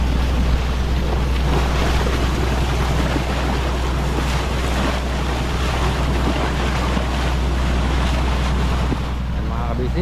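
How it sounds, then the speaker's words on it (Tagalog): A boat motors out onto the Pacific off Mindanao, its engine droning low and constant under heavy wind buffeting the microphone and the wash of waves and spray close by. "ready na ang ating team kabisig na lumaot dito pa rin po sa Pasipiko ng Mindanao"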